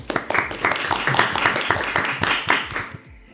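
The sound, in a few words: audience applause welcoming a professor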